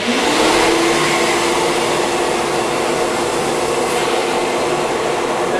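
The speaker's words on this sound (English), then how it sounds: "when we turn the tool on, the vac will automatically come on" A Summit HD Power Vac shop vacuum starts up automatically as a plugged-in power tool is switched on, giving a loud, constant, close-up whine and roar of rushing air that holds steady throughout.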